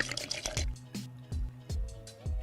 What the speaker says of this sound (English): So let's go ahead and pour this cup